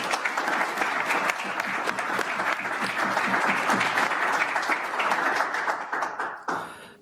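A conference audience applauds to welcome panelists at a keynote panel, a loud, steady wash of clapping that holds for several seconds and then breaks off sharply near the end.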